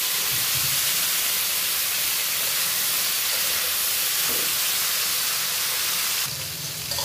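Potatoes and pointed gourd frying in hot oil for a hilsa fish curry give a steady, dense sizzling hiss that carries evenly throughout, close and moderately loud, with no voices.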